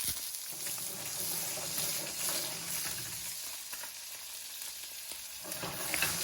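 Sea bream fillet frying in butter in a pan, a dense, bright, continuous sizzle and spatter heard up close, fairly loud with faint occasional clicks and no voices.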